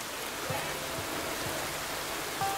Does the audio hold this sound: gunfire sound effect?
no